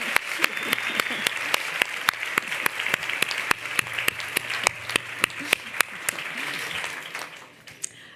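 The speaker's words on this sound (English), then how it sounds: "Everybody give her a round of applause" Audience applause at an author talk: a steady wash of many hands clapping, with sharp individual claps standing out, fading toward the end.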